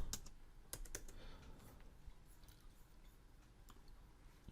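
Fingers tap on a computer keyboard nearby, a quiet, irregular patter of soft clicks with a few sharper strokes, steady for several seconds with no voices.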